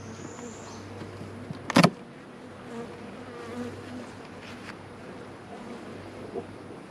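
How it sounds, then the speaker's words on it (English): Honeybees humming steadily in an open hive box during an inspection, a low continuous drone with a brief louder bump partway through. "A lot of bees in this box."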